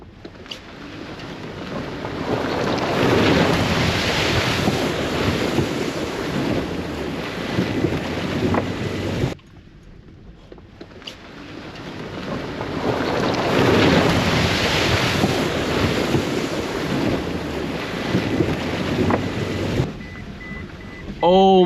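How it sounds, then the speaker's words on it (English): A lifted Toyota Prius plows through a deep creek on Shenandoah Mountain, Virginia, giving loud, close rushing water and splashing under heavy wind buffeting. Two long surges are broken by a brief quieter gap. "That was the deepest creek I went through, and I got it all on camera."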